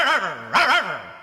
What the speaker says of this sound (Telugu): ఏంటే కుక్క అట్టా సొస్తున్నావు?